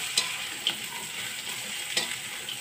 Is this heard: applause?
no